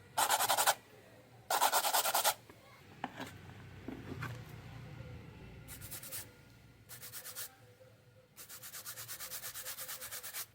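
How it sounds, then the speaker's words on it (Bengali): A brush scrubs a Nepali rudraksha bead still half inside its fruit husk, in several brisk, close bursts of rough scraping separated by quieter pauses, with a longer, rhythmic stretch at the end. "এইবার ব্রাশ দিয়ে ঘষে দেখা যাক"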